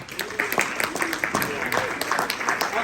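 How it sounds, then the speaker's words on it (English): A small event audience gives a brief round of applause for a former attendee who now runs a coaching academy, scattered claps rising over a steady murmur with voices mixed in. "Can I just give him a little round of applause?"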